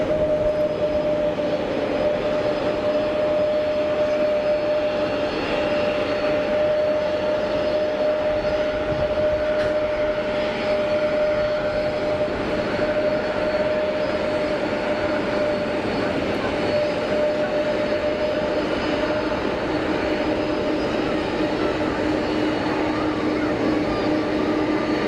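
A Pilatus PC-24 business jet at Geneva Airport gives a steady, continuous engine roar with a sustained whine, loud and unbroken throughout, with faint background noise and no clear talk.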